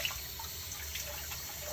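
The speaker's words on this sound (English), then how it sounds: "I rinse it in cool water" Cool tap water runs steadily over kefir grains being rinsed in a kitchen, a soft continuous splashing hiss with faint drips, fairly quiet and unbroken.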